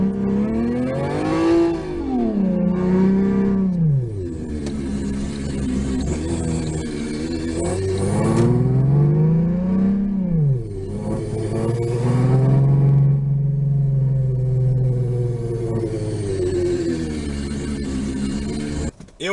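A Sound Racer gadget plays a Ferrari V12 engine sound loud and close, revving up and down in repeated swells and long held notes with no one talking.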